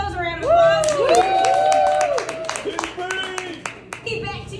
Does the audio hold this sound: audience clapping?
yes